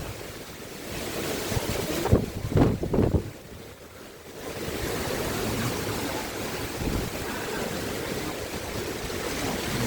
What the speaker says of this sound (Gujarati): ઓહો હોય વરસાદ આવી આવવા માંડ્યો